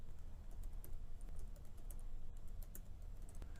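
Keys tapped in a quick, steady run on a computer keyboard while a password goes into a business webmail login, the clicks close and clear over a low constant hum, no voices.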